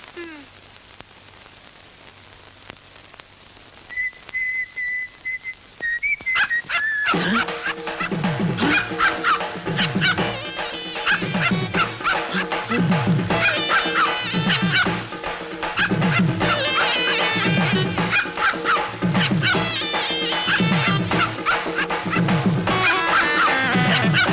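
A dog barks repeatedly in a fast, loud, rhythmic series that settles into a steady pattern, with whimpers and yips mixed in and a brief tone and static before it starts.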